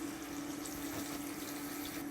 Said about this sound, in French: ça bouillonne très fort, mais pour l'instant, ça ne colore pas encore